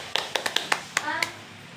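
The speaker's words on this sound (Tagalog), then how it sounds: "May palakpak na lang daw siya." Hands clap about seven times in a quick, uneven sequence of sharp, fairly close slaps, with a voice and other talk faintly underneath.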